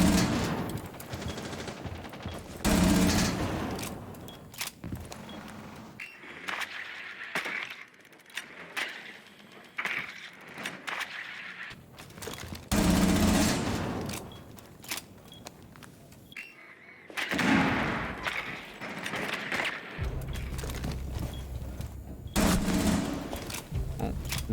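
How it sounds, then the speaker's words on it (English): Roni submachine gun fire in the Rainbow Six Siege video game, loud rapid bursts recurring in several long strings with brief pauses between, alongside other in-game clatter and effects. "the Roni shreds Blackbeard's shield"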